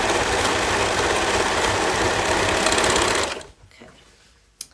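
Sewing machine stitching a seam on leggings from top to bottom, a steady loud whirring run for about three seconds that then stops, followed by a quiet pause and one brief click.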